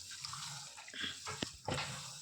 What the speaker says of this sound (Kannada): ನಾನೀಗ ಅಕ್ಕಿ ತೊಳೆದು ಕ್ಲೀನ್ ಮಾಡಲಿಕ್ಕಿಟ್ಟೆ